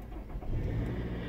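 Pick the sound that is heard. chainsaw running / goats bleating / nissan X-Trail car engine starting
nissan X-Trail car engine starting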